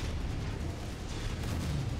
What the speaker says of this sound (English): Love this shotgun.